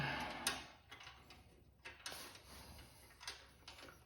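A ratchet tightens a bolt on a Honda CRF300L Rally motorcycle header pipe, giving faint, close, irregular clicking strokes with short pauses between them.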